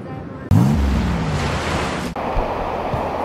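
Head-high ocean surf at a surf break roars in a loud, steady wash of breaking waves, with wind buffeting the microphone.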